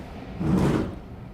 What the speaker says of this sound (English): I think that was just my chair moving.